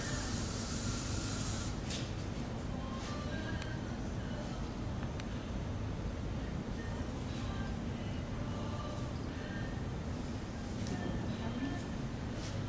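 Sheer hair lacquer sprays steadily for several seconds near the start as a close, soft hiss during hair styling, then the sound fades into faint ambient noise and light handling sounds.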